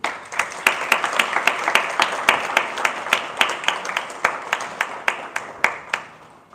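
Steady, crisp clapping from a conference crowd carries on for several seconds with distinct individual claps standing out before it fades at the end.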